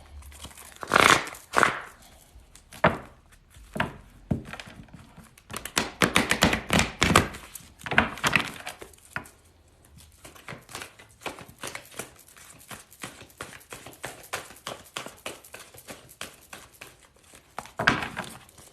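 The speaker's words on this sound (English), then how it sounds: "Just making sure these are really shuffled" Angel cards being shuffled by hand, a close run of papery taps, flicks and rustles coming in irregular bursts, louder in the first half and softer later.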